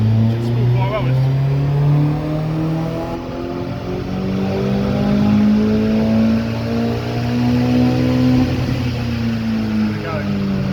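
A Vauxhall Astra H VXR with an EFR turbo conversion revs near 3,000 RPM on the dyno, its engine note sweeping up and down in loud, sustained waves with a faint turbo whistle.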